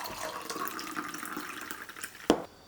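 A soju and cranberry juice cocktail is poured from a shaker into a glass, a steady close trickle of liquid ending with a brief clink.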